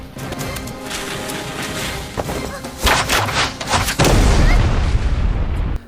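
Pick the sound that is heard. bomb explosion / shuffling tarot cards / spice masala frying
bomb explosion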